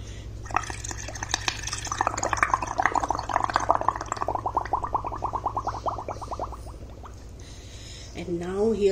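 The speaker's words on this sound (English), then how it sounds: "So I'm going to blow bubbles and the bubbles are going to come out." Rapid bubbling gurgle of air blown through a straw into paint, building for several seconds, then fading as a brief voice sounds at the end.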